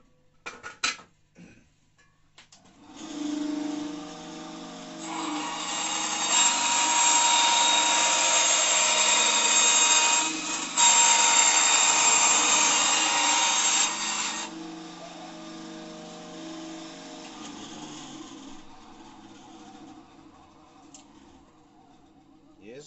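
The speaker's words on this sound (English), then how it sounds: "I'm just gonna cut one side off on my bandsaw over here." A bandsaw cuts one side off a heavy-duty cardboard cigar box, a steady whirring buzz and rasp lasting several seconds at moderate volume, with quieter handling noises before and after.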